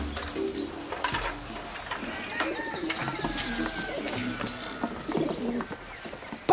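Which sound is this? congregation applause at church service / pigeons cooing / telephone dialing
pigeons cooing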